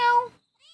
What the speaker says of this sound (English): You can pet this cat.